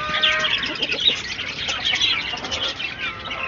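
Native chickens on a rooftop coop, with quail nearby, giving a busy mix of clucks and chirps that runs on steadily throughout, close and moderately loud, with no talking.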